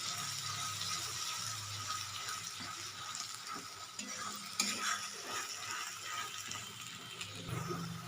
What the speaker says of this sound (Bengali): দিয়ে খুব ভালো করে কষবো,